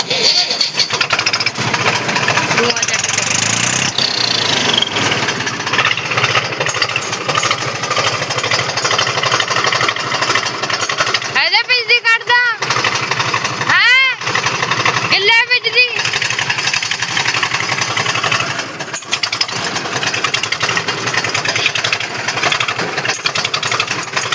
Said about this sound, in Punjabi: ਹੁਣ ਸੈਲਫ ਮਾਰ ਕੇ ਤੁਹਾਨੂੰ ਸੁਣਾਉਂਦੇ ਆ